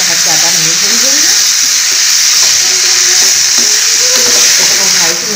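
Green peas sizzling and frying in hot oil for a UP-style matar nimona, a steady loud crackle with a spoon stirring through the pan and a voice speaking faintly over it.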